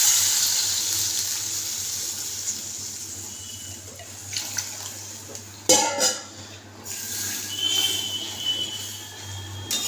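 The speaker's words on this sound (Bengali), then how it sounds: "এবার জল দিয়ে দিচ্ছি।" Water is poured from a tap-like stream into a pan of spiced Bengali fish curry, splashing in a few uneven bursts over a low kitchen hum, with light clinks of cookware.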